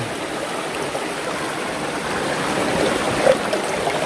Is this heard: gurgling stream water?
yes